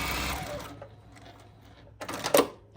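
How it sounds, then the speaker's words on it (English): A sewing machine back stitching over the join of a patchwork quilt-fabric circle skirt seam, a short burst of rapid stitching near the end after quieter handling sounds, fairly close. "I'm gonna back stitch right over the join"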